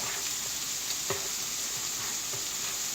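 An egg sizzles steadily in a frying pan while it is scrambled and stirred into rice with zucchini, with soft utensil scrapes breaking through the even hiss and no talking.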